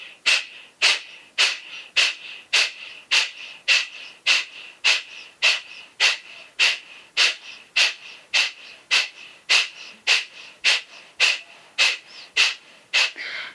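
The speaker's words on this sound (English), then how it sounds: "Exhale in Kapalabhati. Keep going for 20 seconds more." Forceful Kapalabhati breaths from a yoga pranayama practice: a steady, rapid series of about twenty sharp nasal exhalations, evenly spaced roughly every two-thirds of a second, close and loud with no talking.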